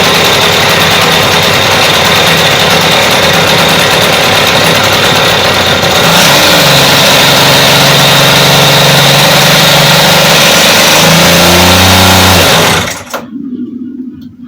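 A small RC glow engine screams loud and close with the throttle opened, its revs wavering and shifting before it abruptly cuts out near the end.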